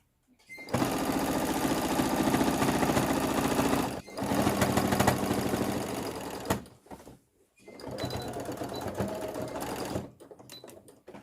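A sewing machine runs in long continuous bursts, stitching a gathered elastic skirt, loud and steady with two brief pauses between runs.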